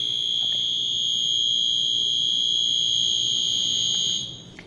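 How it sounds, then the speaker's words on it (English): A mine safety monitoring system's electronic buzzer sounds as a loud, shrill, continuous tone up close, then cuts off just before the end. "And this is the buzzer."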